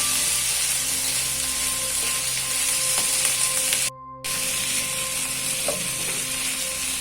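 Chopped large tomato frying in a pan with onion for matar paneer masala, a loud, dense, steady sizzle and hiss with faint stirring clinks, broken by a brief cut to silence midway, no talking.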